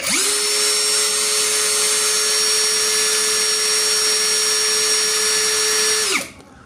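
An MLHY battery-powered tool runs on a 15-cell battery at speed 1. It gives a loud, steady, high motor whine up close for about six seconds, then cuts off abruptly.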